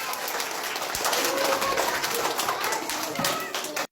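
A group of kindergarten children applauds together, a dense loud clatter of claps that runs steadily for a few seconds and then cuts off abruptly, with some voices mixed in.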